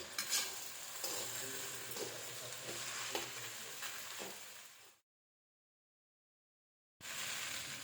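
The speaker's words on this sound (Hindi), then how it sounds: "रेड चिली सॉस, सबको हम एक बार अच्छे से मिक्स करेंगे।" Veg chowmein being stir-fried with red chili sauce in a hot pan, a steady sizzle with scraping and clinking of utensils for about five seconds, then a gap of silence before the sizzling resumes.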